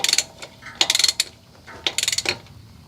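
A ratchet turns a 24mm socket on the transmission filler plug of a 2006 Toyota Tundra with a 4.0L V6, loud close clicking in several quick bursts separated by short pauses.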